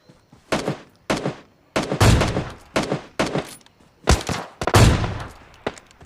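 Gunfire in the mobile shooter PUBG Mobile Lite, with the AWM sniper rifle in use, a run of sharp, loud shots in irregular bursts with some heavy booming reports and brief gaps between them.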